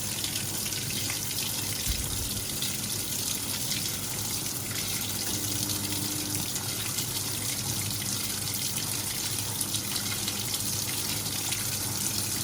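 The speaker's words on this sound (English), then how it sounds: "I've always liked that pulse fill, just so that it saturates all the load and gets any soap in contact with the water." A Simpson Enduro 701 washing machine fills with warm water on a normal wash, a steady hissing inflow of water that runs without a break, moderately quiet and unaccompanied by any voice.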